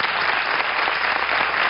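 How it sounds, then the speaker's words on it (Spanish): A television studio audience gives steady, dense applause for a married couple, loud and continuous throughout the short burst. "Un fuerte aplauso para"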